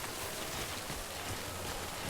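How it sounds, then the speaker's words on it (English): Steady, even hiss of timefall rain in the video game Death Stranding, a continuous wash of rainfall heard alone at moderate level without a break. "any moment now, we should be getting out of the rain"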